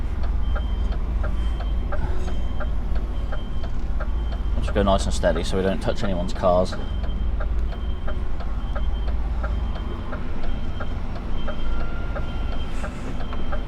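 An HGV truck reverses out of a narrow London street, its steady reversing beeps sounding over a low diesel rumble while someone talks briefly midway.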